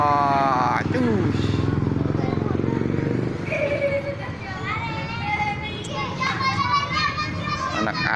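Children shout and play in a street flooded by an overflowing river after heavy rain, their voices bright and close amid splashing, with a motorcycle engine and general street noise rumbling underneath and a narrator talking over it.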